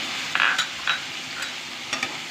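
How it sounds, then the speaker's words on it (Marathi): Onion frying in oil gives a steady hiss, with a few soft stirring scrapes and clinks as tomato is added, close and alone. "हा कांदा छान तेलामध्ये भाजला गेले तळला गेले"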